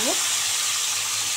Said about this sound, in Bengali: তেতে গেছে, এবার মাছ দিয়ে দেবো। মাছগুলো ভালো করে ভেজে নেব